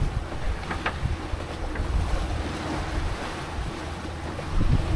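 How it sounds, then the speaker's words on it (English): Wind at about 10 knots gusting across a sailboat at sea, buffeting the microphone over the wash of waves against the hull, with a few faint knocks of rigging; steady and close, without talk. "Wind's picked up to 10 knots."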